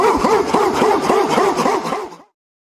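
A dog barks and yips in a quick rhythmic series of about eight to ten close, loud calls that cut off abruptly near the end, with nothing else heard.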